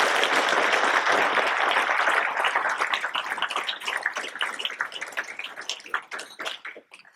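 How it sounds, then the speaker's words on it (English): Audience applause at a sheriff's office award ceremony, a dense burst of many hands clapping that starts loud and full, then thins out and fades toward the end. "A big round of applause."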